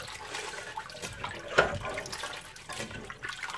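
Water carrying floating shells from cooked chickpeas is poured out of a container, a faint, short splashing gush that peaks sharply midway, with softer trickling and sloshing around it and no talking.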